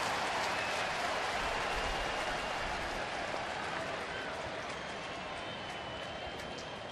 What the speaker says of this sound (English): You can hear it in every cheer.